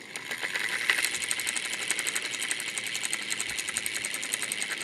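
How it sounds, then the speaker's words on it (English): A toy action figure's pullback motor runs steadily after being wound, a continuous whirring, rattling buzz close up that holds its level throughout, with no voices. "So, this is just kind of like a pullback kind of feature."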